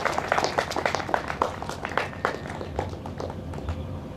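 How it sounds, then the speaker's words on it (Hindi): An audience claps in welcome on the fourth day of a Shrimad Bhagavat Katha gathering in Uttar Pradesh. Scattered claps are brisk at first, then thin out and fade into sparse, irregular hand claps, with a faint murmur underneath. "तालियों से आप स्वागत करें"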